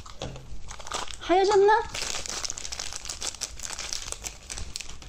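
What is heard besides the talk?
tearing open snack cup wrapper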